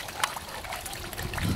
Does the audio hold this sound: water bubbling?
yes